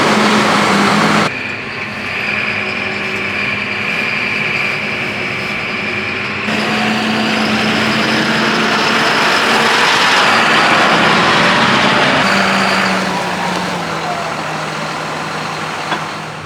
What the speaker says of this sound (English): we'll start the tractor up, put that on the trailer